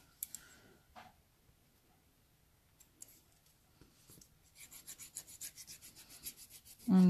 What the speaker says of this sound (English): get right in there and start buffing again